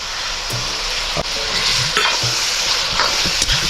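Curry leaves and ginger-garlic paste fry in hot oil for a Kerala prawn roast, a steady loud sizzle with repeated stirring scrapes and clinks throughout, no voices.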